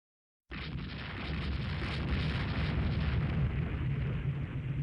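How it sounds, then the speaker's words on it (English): A torpedo explosion in the naval strategy game Rule the Waves 2 gives a sudden loud rumbling roar that starts after a half-second of silence and sustains steadily to the end. "Somebody had torpedoes left."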